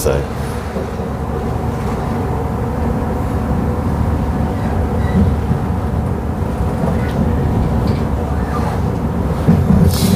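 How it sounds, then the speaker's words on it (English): A suburban train on the Armadale Line to Byford rumbles with a deep, continuous roar for ten seconds, close and loud, heard from on board or beside it. "there is the train to Byford on the Armadale Line"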